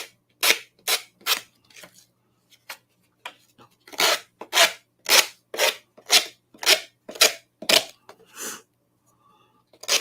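A series of quick, rough rasping strokes of a sanding block scraping along a paper edge, in short irregular bursts with brief pauses between.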